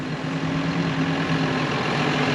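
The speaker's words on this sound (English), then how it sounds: "Tractor and trailer." A tractor hitched to a trailer idles nearby with a steady low, even engine drone throughout, no voices over it.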